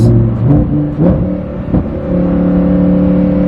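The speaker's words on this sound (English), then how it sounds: "I'm now going 70 kilometers an hour, but I can barely hear myself and the car is absolutely screaming" A Lamborghini's engine drones loudly from inside the cabin as it accelerates in sixth gear, a steady rising tonal roar with a few brief dips between gear-like pulls.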